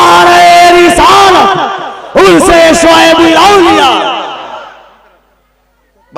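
A large crowd at a religious gathering roars its response to the Nara-e-Takbir call in two loud, close bursts of unison chanting, then fades into silence.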